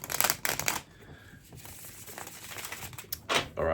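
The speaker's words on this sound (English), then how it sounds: "let me just give the cards one more shuffle" Tarot cards riffle and flutter in quick papery bursts, paused by a quieter stretch, then another brisk shuffle close by.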